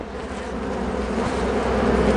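Honey bees buzz in a dense, steady drone at an open hive during a spring inspection, close and continuous, rising slightly in loudness.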